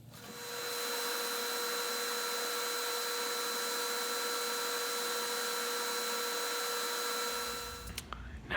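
Abrasive blasting inside a blast booth while masked titanium knife parts are prepared for two-tone anodizing, a loud steady broadband hiss and roar held for about seven seconds, then cutting off abruptly with a few clunks at the end.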